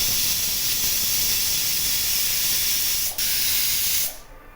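Pressure cooker steaming a tindora and potato curry vents a loud, continuous hiss of steam that dips briefly, then cuts off near the end.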